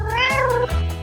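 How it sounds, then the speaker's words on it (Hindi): A cat shut inside a basket lets out a long, rising and falling meow followed by a shorter second cry, close and clear over a low background hum. "अरे नहीं, मेरी बिल्ली इसमें है।"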